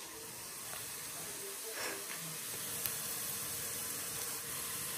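Onion frying in a pan in a small village kitchen in Konkan, giving a steady, close sizzling hiss throughout with faint clinks and background noise, no talking.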